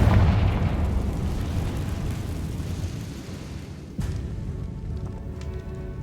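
A Confringo fire spell bursts in a cave in Hogwarts Legacy: a sustained rumbling roar that fades, then a sharp crack and a second lower rumble.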